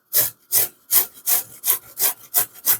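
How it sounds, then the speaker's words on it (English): Fresh ginger is rubbed against a grater in eight even strokes, each a close, raspy scraping swipe with brief pauses between, no voices. "So I'm going to grate some and slice some of it."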